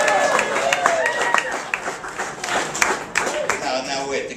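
Wedding guests clap and cheer in a reception hall, a steady wash of applause with scattered whoops and voices mixed through it, loud and close throughout.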